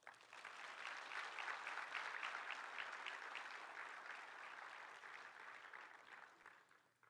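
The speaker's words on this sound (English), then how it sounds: "If we could, one more round of applause." A round of applause at an IB graduation celebration, steady clapping from an audience that sounds somewhat distant and soft, holding evenly for several seconds before gradually tapering off at the end.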